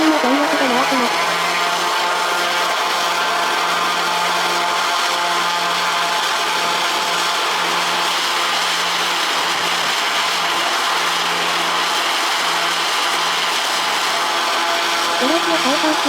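Airplane engines run at full power with the brakes held at Lukla airport in Nepal, a loud, steady, droning roar with a sustained high whine that holds unbroken throughout.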